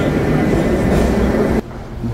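An old Soviet-era metro train in Uzbekistan roars loudly past as a dense rumble, then drops sharply to a quieter hum partway through.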